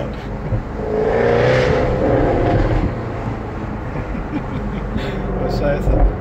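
A Jaguar F-Type R with a V8 engine revs loudly, the roar swelling then settling into a sustained rumble during a test drive, with excited talk over it.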